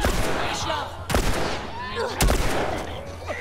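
Gunfire in The Last of Us Remastered on PS4, with two sharp loud shots about a second apart standing out over dense game noise, a busy mix of combat sounds and a voice throughout.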